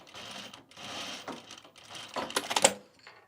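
A sewing machine stitches binding onto a travel bag, a steady mechanical whir in stop-start runs that gets busier and louder toward the end, heard close with no talking.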